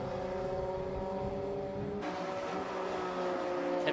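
Racing cars in a club endurance race at Silverstone International, including a Mazda MX-5 and a BMW, drone past with steady engine tones that shift midway as one car passes and another approaches.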